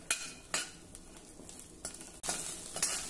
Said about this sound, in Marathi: मिरची अगदी खमंग भाजायला हवी